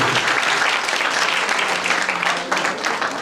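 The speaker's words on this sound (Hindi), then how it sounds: "एक बार जोरदार ताली वर्तमान के यूथ के लिए" Steady, dense applause from a crowd, loud and continuous throughout without pause.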